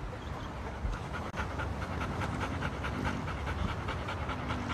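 Several dogs panting steadily and quickly in a dog training class, close and continuous, with a low background murmur and no clear talk.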